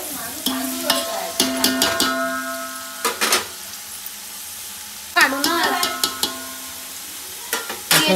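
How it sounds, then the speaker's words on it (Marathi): Chopped onion frying in a pan for chicken biryani, with a steady sizzle and repeated scraping and clinking from a spoon stirring it, close and fairly loud. "वगैरे कांदा भाजून घेतो आपण"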